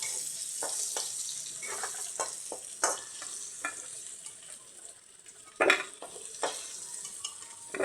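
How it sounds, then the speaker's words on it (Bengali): Potatoes fry in oil as a spatula stirs them, giving a soft continuous sizzle punctuated by irregular scraping and tapping strokes against the pan, with one louder clank near the end. "আলু ভাজা হয়ে গেছে।"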